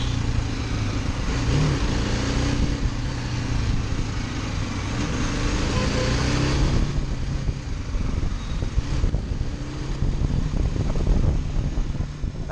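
A BMW G310GS motorcycle is ridden deliberately over rough, patchy road, giving a steady, close engine drone blended with heavy wind rush and bumps, with no one talking.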